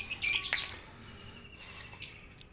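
Lovebirds chirp in a quick cluster of bright, fairly close calls, then fall quiet before a single short chirp near the end.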